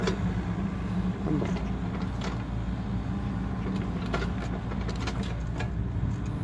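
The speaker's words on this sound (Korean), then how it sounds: "엔진 소리 참 좋습니다" A Volvo EC60E compact excavator with a new-model engine idles steadily nearby, a constant low rumble with faint mechanical clatter and no talking.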